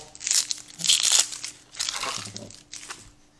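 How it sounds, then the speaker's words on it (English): Dry papery outer skin being peeled and torn off an onion, with repeated close crinkling and crunching bursts in a quiet room, no talking. "Now, when we're dealing with onions, we take the top two layers off."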